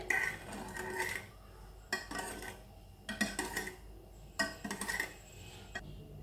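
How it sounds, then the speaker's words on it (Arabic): Metal utensil scraping and clinking against a bowl while gently mixing cake batter of eggs and milk, in bursts, a steady stirring rhythm with brief pauses, close and moderately quiet. "دابا نخلطوا المكونات غير بشويه باش ما يهبط ليناش البيض"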